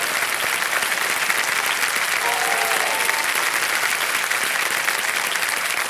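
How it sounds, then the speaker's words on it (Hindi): A studio audience on a televised quiz show bursts into loud, dense applause that holds steady for several seconds, a broad wash of many hands clapping together with no voice over it. "जोरदार तालियां बच जाए"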